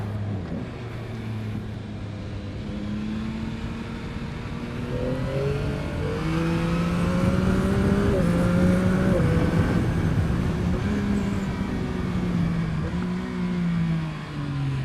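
A car engine revs hard and climbs through repeated quick upshifts, each rising pitch sweep dropping back as the next gear engages, loud and close from inside the car with no talking.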